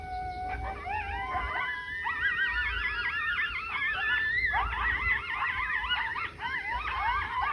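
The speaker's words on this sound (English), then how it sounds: "Last night we had a ton of coyotes out at our property, which I will roll the clip now." A pack of coyotes howls and yips at night on rural property, many wavering, overlapping high voices in a continuous chorus heard from a moderate distance, with no talking.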